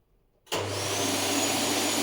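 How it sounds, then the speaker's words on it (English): A canister vacuum cleaner switches on after half a second of near silence, its motor jumping straight to a loud, steady whine with a low hum and broad airflow hiss that holds unchanged to the end. "And let's switch the vacuum first"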